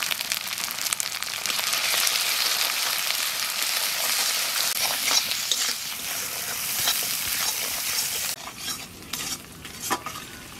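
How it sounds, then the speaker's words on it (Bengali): Spice paste of green and dried chillies, ground turmeric and salt sizzles and fries in a pan for a Bengali catfish curry, with steady stirring and scraping throughout, close and continuous, tapering slightly toward the end. "মশলা কষানো হয়ে গেছে, আমি জল দিয়ে দেবো।"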